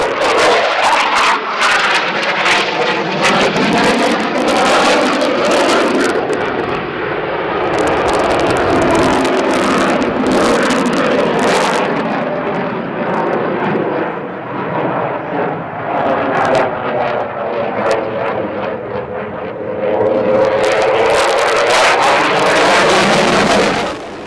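A fixed-wing aircraft making a display pass at the La Ferté-Alais airshow, its loud engine roar rising, sweeping past close by and fading, with a strong continuous presence throughout.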